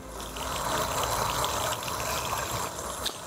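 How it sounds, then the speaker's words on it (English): Water gushes steadily out of the discharge port of a DAB EsyBox pump during flushing, a continuous close rushing splash that holds level for the whole stretch with no talk over it. "And as you can see, water's coming out"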